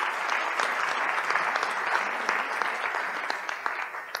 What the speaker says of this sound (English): let's have a round of applause for working moms